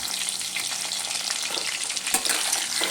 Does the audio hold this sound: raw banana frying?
yes